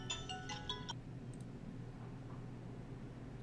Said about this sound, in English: Excuse the interruption. Cell phone.